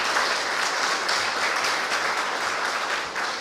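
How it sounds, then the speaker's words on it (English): Audience applause at a governor's bill signing, a dense, steady wash of many hands clapping that stays loud and continuous for the whole stretch, with no speech over it. "Let's give them a round of applause"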